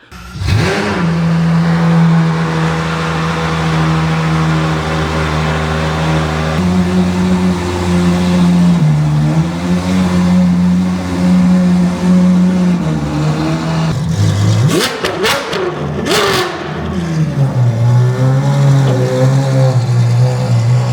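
A widebody Ferrari 812 GTS with a Tunier exhaust revs loudly and close by, a deep sustained engine roar that climbs and holds, briefly drops, then surges with sharp blips before settling into a steady high idle.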